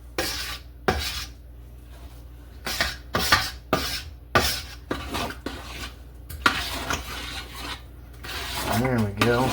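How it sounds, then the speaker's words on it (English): Carrot cake jam stirred in a pot gives repeated scraping and rasping strokes of a spoon against the pot, close and irregular, with bursts of clatter between quieter gaps. "Get this all stirred in nicely."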